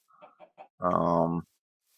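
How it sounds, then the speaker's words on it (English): Three quick clucks followed by a longer, drawn-out chicken squawk from Minecraft, close and clear, with nothing else around it. "Lots and lots of chickens."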